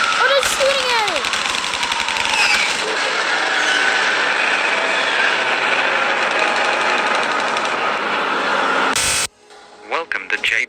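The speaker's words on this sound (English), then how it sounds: "Oh, they're shooting at it!" Rapid, continuous gunfire rattles loudly at an infected aircraft in a movie scene over downtown Chicago, with shouting voices and engine roar mixed in, breaking off near the end into scattered sounds.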